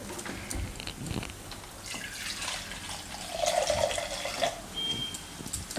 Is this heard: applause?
no